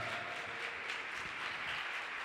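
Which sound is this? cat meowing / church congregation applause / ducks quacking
church congregation applause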